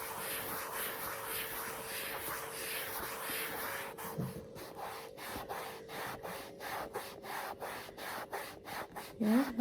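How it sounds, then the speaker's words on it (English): Cleaner being rubbed over a Mulberry Alexa leather handbag to lift marks, a close, steady scrubbing that settles into a rhythmic series of short strokes toward the end. "Yeah, it's getting all the marks off it. Just rub that one a little bit."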